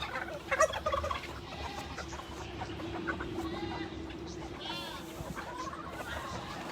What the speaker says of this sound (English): I want you guys to see how crazy these chickens are.